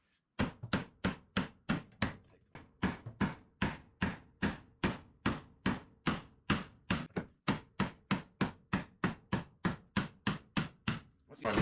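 A hammer strikes sheet metal again and again while a car quarter panel is formed for a Del Camino build, roughly thirty sharp, evenly spaced blows landing close and loud.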